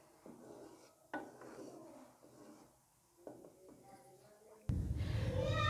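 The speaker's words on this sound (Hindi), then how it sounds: "इसको सिरके को डाल दें, इसको हिला लें अच्छे से" Potato chutney with vinegar stirred in a pan, giving several scraping, clinking utensil strokes against the pan, then a loud, steady sizzle that rises near the end.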